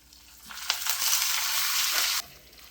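Urad dal frying in hot oil with mustard seeds, cumin, dried red chillies and curry leaves for a tempering, a loud steady sizzle surging after the spices drop in, then cutting off abruptly, with no voices.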